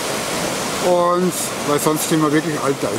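The Traun river in flood at Traunstein, Germany, rushes as a broad, steady roar of water beneath someone speaking close by.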